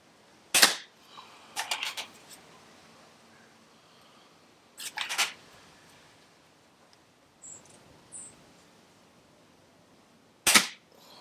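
Snowpeak SP500 air pistol firing at a target indoors: three sharp, separate snapping shots spaced a few seconds apart, each followed by a brief rattle, with faint small clicks between them and no talk.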